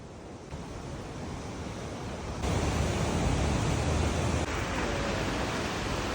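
A mountain river in Norway rushes in a dense, continuous roar of white water, close and loud, swelling a little halfway through.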